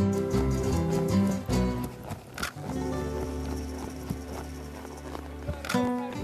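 Horses on a ranch walking with hooves clip-clopping in an irregular, fairly close rhythm against a steady background hum, with a few louder knocks.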